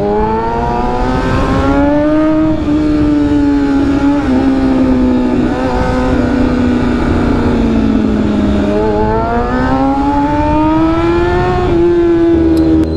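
A KTM big bike motorcycle accelerates hard along an expressway, its engine note climbing steadily in pitch through several gear pulls, loud and close throughout with no talk.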